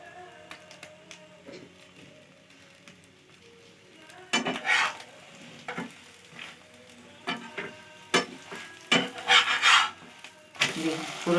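An egg roll frying in oil in a home pan gives a soft sizzle, with louder scraping rasps as a spatula turns it and works around the edges, in irregular bursts.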